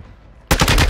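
Sudden loud burst of rapid automatic gunfire in the video game Call of Duty: Modern Warfare II, a quick string of close shots breaking in after a quiet moment.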